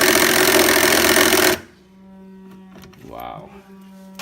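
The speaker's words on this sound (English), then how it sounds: "I'm going to use an impact drill and see if we can get this out." An impact drill whirs loudly and steadily for about a second and a half on a Whirlpool top-load washer, then cuts off abruptly, leaving a low hum and a brief voice.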